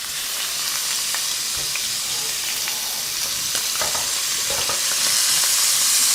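Shrimp sizzles in extra virgin olive oil in a pan, cooked as BBQ shrimp: a loud, steady hiss with scattered small pops and crackles that holds for the whole stretch, close up, with no one talking.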